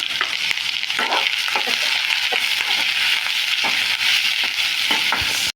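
Ginger, garlic, big and small onions and red chillies frying in hot oil produce a loud, steady hiss, punctuated by repeated spoon scrapes and stirring knocks against the pan, up close and without any speech.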